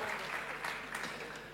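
Youth church audience applauding two guest speakers, a brief, continuous wash of clapping at moderate distance with a faint voice underneath.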